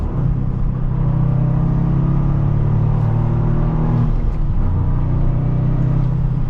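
A 2025 Toyota GR Corolla hot hatch pulls hard through corners, its engine droning loud and close with rising and falling rev tones and a constant rumble, no talking over it.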